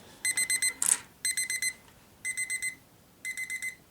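An electronic desk alarm clock with a charger rings in bursts of four rapid high-pitched beeps, repeated several times with short pauses, loud and close, with a brief handling knock early on.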